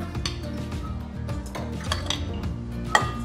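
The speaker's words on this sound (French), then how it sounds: "On va mélanger nos œufs et les sucres pour les faire monter." Eggs and sugar are mixed in a bowl, giving a rapid rhythmic scraping and clinking of a utensil against the bowl, close and fairly quiet, with no talking.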